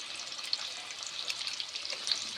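Thinly sliced potatoes frying in oil; a faint, even hiss of sizzling with scattered soft pops runs steadily without voices.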